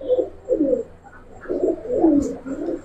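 Giribaz and coloured pigeons coo close by in repeated throaty bursts of about half a second each, with short pauses between, clear and fairly loud with little else around.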